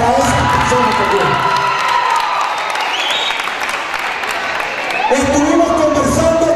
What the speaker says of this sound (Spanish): Un aplauso para esas personas también.